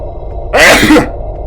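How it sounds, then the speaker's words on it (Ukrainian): A single sharp sneeze bursts out loudly and close, lasting about half a second after a quiet lead-in. "Зараз чихну."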